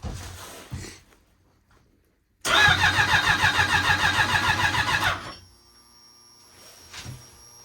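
A twincharged Apex car engine cranking with a rapid rhythmic whirring for about three seconds on its first start, then dropping to a low idle hum, preceded and followed by quiet clicks.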